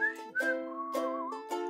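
A bright whistled tune of four sustained, melodic notes, separated by short breaths, with a clean, close sound in a quiet room.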